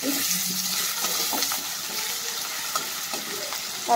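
Tomato sizzles with turmeric and salt in a hot oiled pan, a steady close hiss of frying with faint stirring scrapes and a soft clink near the end, with no talking.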